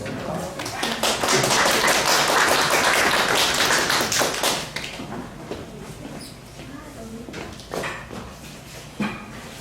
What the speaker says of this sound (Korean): 자, 박수 한번 주겠습니다.